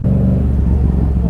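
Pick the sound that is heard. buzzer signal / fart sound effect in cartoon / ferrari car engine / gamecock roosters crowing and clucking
ferrari car engine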